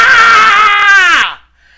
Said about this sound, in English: I let out this primal, guttural scream like, "Ah!"